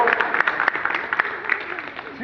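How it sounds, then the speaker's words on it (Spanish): Audience at a public talk applauding to welcome guests: a brief, close burst of scattered clapping with a voice speaking over it. "Entonces, les damos un aplauso para que vean que la recibimos bien."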